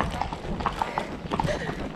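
Horse hooves clip-clop in an irregular rhythm on an endurance social ride, close and moderately loud, with a rider talking over the steps.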